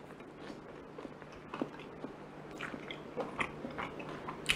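Someone bites into a crunchy lamb pastry made with roti canai, producing soft, close crunching and chewing with a few sharper crackles over a quiet background.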